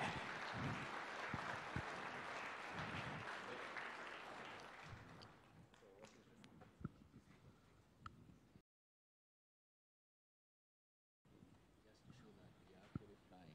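An audience at a State House government launch event claps loudly and densely for a few seconds, then the applause thins and fades while voices carry on.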